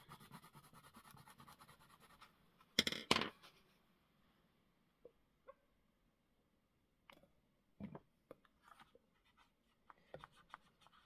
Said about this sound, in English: Water-soluble graphite pencil, take two.